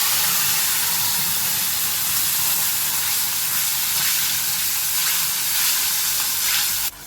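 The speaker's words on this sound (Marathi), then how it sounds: "त्यामध्ये आपण वाटून घेतलेली ग्रेव्ही टाकली आहे आणि आता ही त्याचा कच्चेपणा जायपर्यंत शिजून घेऊया" Ground gravy frying in hot oil with a little cumin while cooking paneer tikka masala: a loud, close, continuous sizzle and hiss that holds steady throughout with no voices, cut short at the very end.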